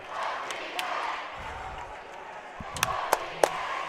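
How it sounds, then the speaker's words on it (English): Crowd noise fills a gymnasium during a tense late-game timeout at a girls high school basketball game, a steady roar of fans with sharp claps and bangs punching through near the end. "The crowd is going wild here for the OBA fans."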